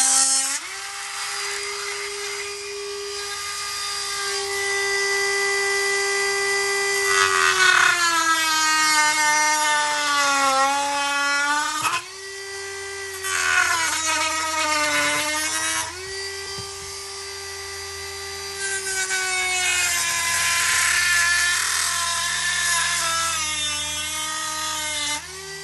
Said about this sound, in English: So now we're going to cut this out like I normally do with my cutoff wheel.